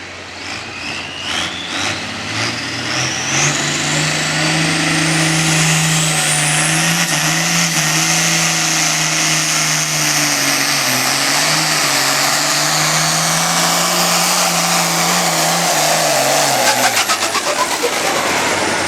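A 9500 pro field class pulling tractor roars through a pull at Mound City, Kansas, the engine climbing from a stuttering start into a sustained loud howl with a rising whine, then tapering near the end.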